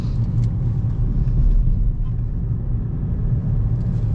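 A car engine held at moderate half throttle rumbles steadily and loud for the whole stretch, a continuous low drone with slight swells and no gaps.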